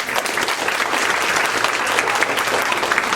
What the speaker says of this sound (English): A big round of applause for Ben.